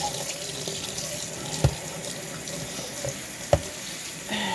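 Water runs steadily from a kitchen sink tap while dishes are washed, a continuous close hiss with two sharp clinks of dishware knocking together partway through.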